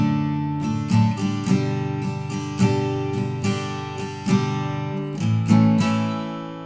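Acoustic guitar strums through the outro of a song, a steady repeated chord pattern played alone and close.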